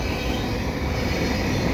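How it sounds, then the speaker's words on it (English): An empty CN potash unit freight train rolls past nearby at Dorval, a continuous rumbling roar of heavy wagons on the rails with a faint metallic ring. "This is an empty potash train here at Dorval."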